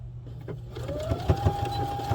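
A sewing machine runs a quarter-inch seam on a soft padded figure skate guard, giving a short, close, rhythmic run of thumping stitches.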